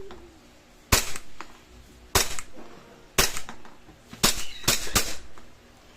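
EC Glock 17 airsoft pistol in tan, firing BBs: five sharp, snappy shots at irregular intervals, close and loud, each with a short ringing tail, over quiet background with no talking.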